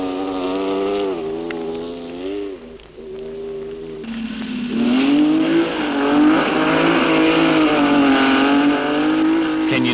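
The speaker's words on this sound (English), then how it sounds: "Zealander Tim Bailey has his Porsche flying" Engine of a Porsche rally car at the 1973 Southern Cross International Rally, revving and changing pitch as it drives a muddy stage, steady and fairly loud, rising sharply in intensity midway with strong harmonic whine.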